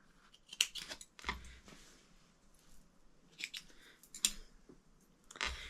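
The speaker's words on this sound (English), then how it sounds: "Trim my threads." Scissors snip sewing threads while making a velour crossbody bag, several quick crisp cuts spaced apart in a quiet room, close and fairly faint.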